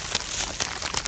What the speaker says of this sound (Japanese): と雨が降ってきましたので、